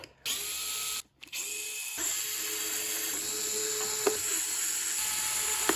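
A small powered 2.5 mm driver whirs steadily while backing screws out of a radio-controlled model's radio unit, running close and continuous after a brief stop near the start, with a couple of faint clicks.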